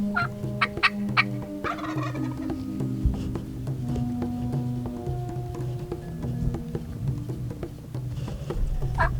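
A wild turkey longbeard gobbles repeatedly during a spring hunt near a cedar, loud, rolling calls standing out over outdoor background noise with no talking.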